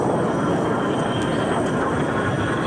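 A jet aircraft flies low in the Arma 3 video game, its engine a loud, steady roaring wash that fills the short stretch without a break.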